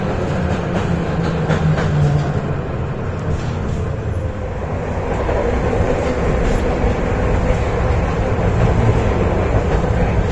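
An old blue and white tram rumbles past in a Russian city, a steady, loud rolling drone with low rail noise throughout and no voices.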